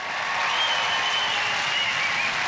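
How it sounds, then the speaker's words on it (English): Steady roar of applause and cheering from a large studio audience at the 1992 Gladiators UK Grand Final, sustained and loud throughout as the crowd acclaims a contestant after a bullseye shot. "Jane acknowledging the cheers of the crowd"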